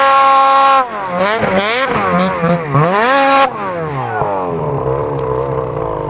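A snowmobile with an aftermarket exhaust can revs hard and loud right up close, its pitch climbing and falling in repeated sharp blips before easing back to a rough idle.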